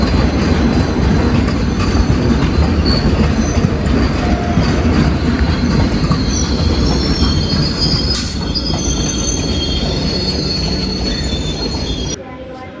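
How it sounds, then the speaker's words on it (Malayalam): The delayed Madurai Express rolls into Ernakulam Town railway station in India, wheels squealing loudly and continuously against the rails with a steady rumbling clatter close by, easing slightly toward the end. "അങ്ങനെ 41 മിനിറ്റ് ഡിലേ ആയിട്ട് മധുര എക്സ്പ്രസ് എറണാകുളം ടൗൺ റെയിൽവേ സ്റ്റേഷനിൽ എത്തിയിട്ടുണ്ട്"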